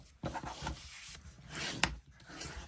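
A bone folder or similar tool burnishing crease lines flat on a paper junk journal folio, making quiet, scratchy rubbing strokes in a close, steady back-and-forth run, with one sharper scrape near the end.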